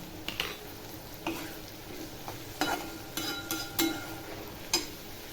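Eggplant and bean mixture sautéing in a pan, a quiet frying hiss broken by several spatula scrapes and stirring knocks at irregular intervals.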